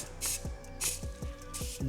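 Three short hissing sprays of foam car-valeting cleaner, evenly spaced, with faint background music underneath.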